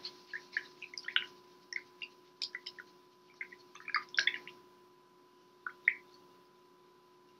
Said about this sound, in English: and I'm going to rinse my brush